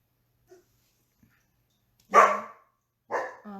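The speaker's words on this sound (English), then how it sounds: "my dog just barks all the time" A dog barks twice at close range, two short separate barks about a second apart after a near-silent stretch with a few faint ticks.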